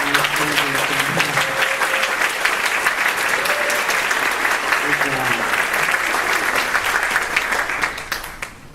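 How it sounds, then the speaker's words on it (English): A concert audience gives a sixth grade band sustained applause, thick and even, with a few voices calling out and short tones ringing early on, before the clapping fades at the end. "Can we give them another round of applause?"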